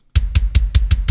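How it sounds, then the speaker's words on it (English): Six punchy hits of a Dead Kick kick drum sample with a deep thump and a bright click, evenly spaced and loud, played alone in quick succession. "I am using this awesome kick drum called Dead Kick."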